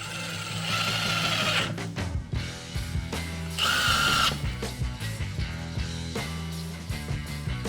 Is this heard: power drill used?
yes